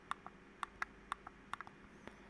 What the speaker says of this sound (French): Et le clic de la molette.